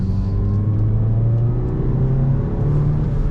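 A one-owner Ford Focus SVT with 18,000 miles revs at half throttle, its engine note climbing in a steady, loud drone with rising harmonics for a few seconds, close and unbroken.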